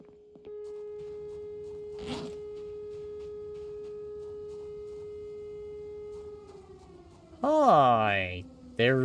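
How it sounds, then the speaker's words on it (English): A steady electronic alarm tone drones on for several seconds in the video game Project Zomboid. Near the end a person speaks loudly over it. "There's an alarm going off."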